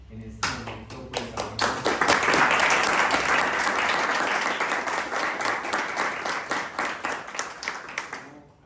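An audience applauds after a lecture, a dense burst of clapping that swells quickly, holds for several seconds, then thins into scattered claps, with a voice speaking over it.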